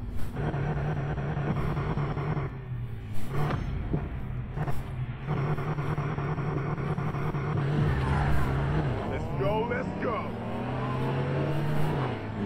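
A car engine in the racing video game Need for Speed Payback drones loudly and steadily, then revs and climbs in pitch toward the end, while a voice talks over it.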